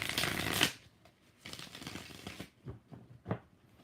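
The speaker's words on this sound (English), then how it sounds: "I'm shuffling again" A deck of tarot cards is shuffled by hand: a long riffling burst first, then several shorter shuffles and soft card taps, close and fairly quiet, with no talking.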